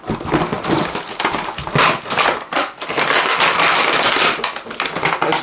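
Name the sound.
Nerf Zombie Strike Sledgefire blaster pulled off its packaging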